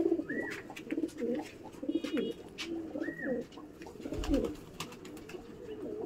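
Pigeons cooing in soft, repeated throaty calls while the flock drinks water, close by and steady, with faint chirps and light rustling around them.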